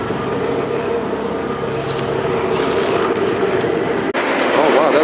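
A steady, loud rumble of a passing train with rolling clatter and a brief dip near the end, continuous throughout.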